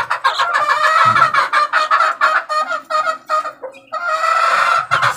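Backyard laying hens clucking loudly and close, a busy run of repeated short calls with brief pauses and no talk.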